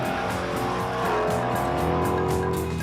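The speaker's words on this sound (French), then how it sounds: "retour sur 4 roues avec l'essai musclé de la semaine, la Ford Mustang de Shelby GT 350" A Ford Mustang Shelby GT350 roars past, its V8 engine a loud, revving growl with rising and falling pitch and a brief tire squeal, heard close for a few seconds with no voices.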